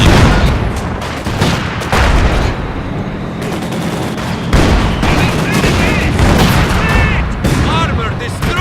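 Loud battle gunfire from Company of Heroes 2, with rapid bursts and heavy booming shots layered over one another continuously, while voices speak amid the fighting.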